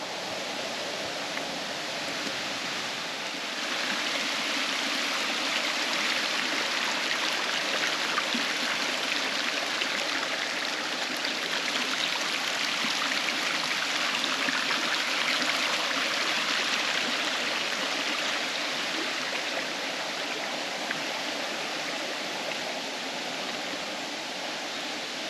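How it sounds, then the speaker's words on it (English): A waterfall and flowing stream near Nadi, Fiji, give a steady, broad rushing roar that holds loud and unbroken throughout, with no voices. "Here we have the waterfall."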